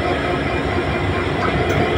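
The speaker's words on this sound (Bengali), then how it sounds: "একটি ট্রেন এই মাত্র আসলো।" A train pulls into Tangail railway station with a loud, continuous rumble and rolling wheel clatter, close and steady throughout.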